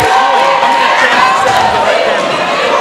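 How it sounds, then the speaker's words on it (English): A high school varsity basketball crowd roars and cheers in a gym, a loud sustained din of voices with shouts rising over it, heard under an announcer's play-by-play. "Central Gwinnett's crowd is hype."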